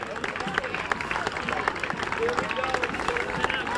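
Spectators at the 1994 Salem Heritage Days parade clap for the passing Velvet Knights, a brief, dense patter of applause mixed with crowd murmur, fairly even in level throughout.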